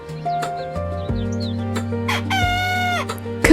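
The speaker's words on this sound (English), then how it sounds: "Hen." A hen clucks in short bursts, then gives a drawn-out crowing call, loud and close over a steady musical background.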